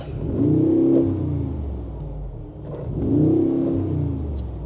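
A Mercedes-AMG G63 V8 revs twice just after push-button start, each blip rising to a deep, loud roar and settling back to a rumbling idle, close by with no talk.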